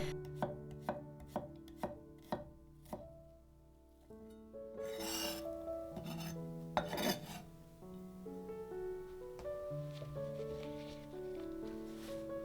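Knife chopping onion on a board: a steady run of sharp, evenly spaced chops, then softer scraping and rubbing with a tonal hum beneath.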